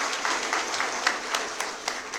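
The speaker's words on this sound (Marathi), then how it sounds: "आपण जोरदार टाळ्या वाजवून आयुक्तांचं स्वागत करूया" An audience applauds to welcome the municipal commissioner at a Maharashtra Day civic event in Thane, a dense, even spread of clapping from a crowd, sustained at moderate loudness with a few sharper claps standing out.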